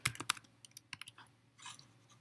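Quick keystrokes tap on a computer keyboard during school test setup, a close burst of clicks, then a pause and another short flurry of keys.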